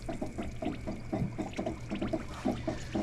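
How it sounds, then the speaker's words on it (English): Nearly eight cups of water pour into a pot holding ClearJel, cinnamon and sugar for peach pie filling, a close, steady stream of irregular splashing and gurgling pulses with no voices. "And then I'm going to add, it's just a little less than 8 cups of water"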